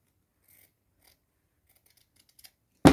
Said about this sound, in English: We might cut a piece out of that.